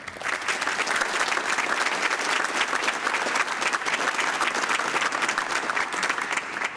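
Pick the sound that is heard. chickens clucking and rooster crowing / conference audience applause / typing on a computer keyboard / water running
conference audience applause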